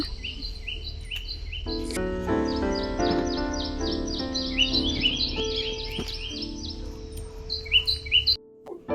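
Morning birdsong fills the air: repeated bright chirps and whistled phrases in quick series, with a steady tonal call underneath and a few louder knocks near the end.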